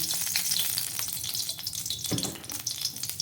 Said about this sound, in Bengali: রাজমা রান্না করার জন্য আমি একটা কড়াই বসিয়ে দিয়েছি। তার মধ্যে দিয়ে দিচ্ছি আমি কিছুটা সাদা তেল।